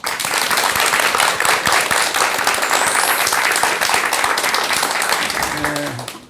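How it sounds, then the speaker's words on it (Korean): Loud, sustained applause from a large crowd at a Buddhist temple mountain concert, welcoming a monk's lecture; dense clapping fills the whole stretch before tapering off at the end. "여러분 큰 박수 부탁드립니다."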